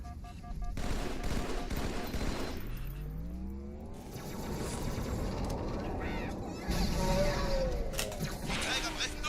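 Gunfire from the Halo 2 video game, with bursts of automatic weapon fire and explosions in a dense, loud battle mix, while in-game voices speak over the action.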